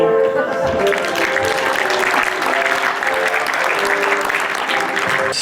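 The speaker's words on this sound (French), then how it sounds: "Applaudissez-vous, vous êtes beaux!" Audience applause fills the whole stretch, a steady dense clatter of many hands clapping at an even level from a crowd at a year-end gathering.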